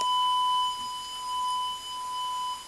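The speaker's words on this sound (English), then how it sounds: "Excuse me for the bell." A school bell rings steadily during a math lesson, a sustained electronic tone with a higher whine above it, continuous for nearly three seconds at moderate loudness with no talking.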